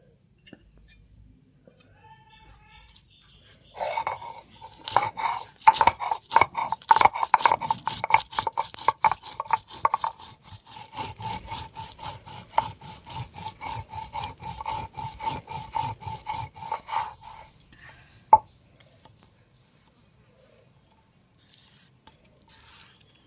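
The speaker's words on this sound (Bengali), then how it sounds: "আর দারচিনি দিয়ে দেবো, আর অল্প হলুদ একসাথে আমি বেটে নেবো" Cardamom, cinnamon, garam masala and turmeric are ground into a paste on a stone grinding slab, heard as a long run of rapid, scraping back-and-forth rubbing strokes, close and steady, stopping after about fifteen seconds.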